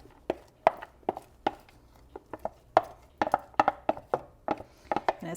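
Chopped mango pieces dropped into a pot of lentil soup on the stovetop, heard as a close, irregular series of soft knocks and plops with no voices.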